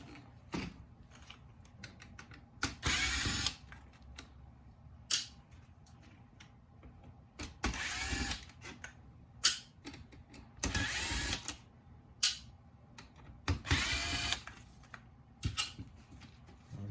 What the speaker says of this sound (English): It looks like 5 Phillips screws we need to take off.